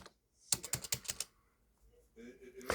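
Quick burst of about eight sharp clicking keystrokes on a computer keyboard, close and crisp, followed by a short pause and then a voice speaking.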